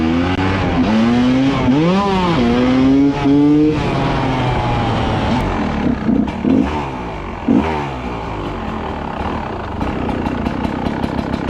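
A GasGas 300 dirt bike engine runs loud and close, revving up and down in repeated rising and falling sweeps before settling into a steadier, rough running note.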